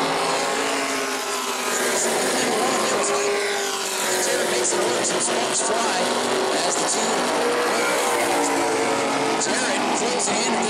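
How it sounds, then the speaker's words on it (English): Race cars roar around the track on the final lap of a short heat race at New Smyrna, a loud continuous engine wail with passing surges, under the commentator's voice. "Final lap now, Matt Jarrett."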